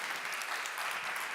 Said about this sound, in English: let's make again an applause for Mary-Lou